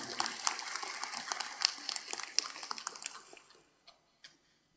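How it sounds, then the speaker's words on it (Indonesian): A crowd at the 99th anniversary gathering of Nahdlatul Ulama in West Java applauds, a fairly faint, lively patter of clapping that tapers off into a few scattered last claps. "Terima kasih, tepuk tangan yang meriah."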